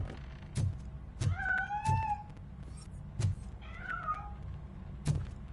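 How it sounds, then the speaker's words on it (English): A cat meows twice in the RoboCop: Rogue City game on PS5, clear drawn-out cries set against low background rumble and a few dull periodic thuds. "That cat must be hiding inside."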